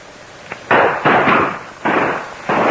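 Hand grenade blasts in an old Marines war action film: several loud, sharp explosive bursts in quick succession, each with a short rumbling tail, close and with no speech.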